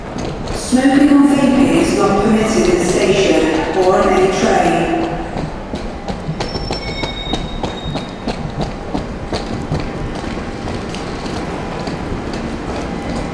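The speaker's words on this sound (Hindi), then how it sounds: "जिस ट्रेन में मैं अभी बैठा हूँ ये है एलिजाबेथ लाइन" An Elizabeth Line train heading to Paddington rumbles and clatters steadily from inside the carriage, with tonal squeals and pings at first that give way to a continuous rolling rattle.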